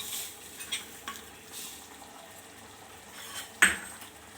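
Paneer gravy being stirred in a pan produces soft, scattered scraping strokes over a faint simmer, with one sharper metallic clink near the end, all fairly quiet and close.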